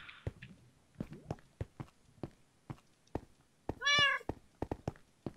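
A Siamese cat indoors gives a single clear, drawn-out meow among a series of sharp, quiet tapping footsteps and small knocks, with no talking.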